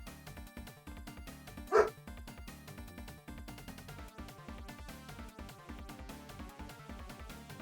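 A dog gives one brief bark, faint and a little distant, against steady rhythmic music from a game that runs the whole time.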